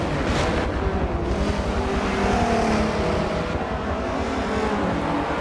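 A race car engine in Forza 7 at Watkins Glen, overtaking a Viper, drones loud and steady throughout with a whining harmonic tone, close and continuous without pauses or talk.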